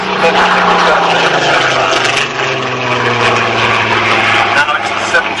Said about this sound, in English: The Mark 19 Spitfire that made the last Royal Air Force Spitfire sortie in Malaya on the 1st of April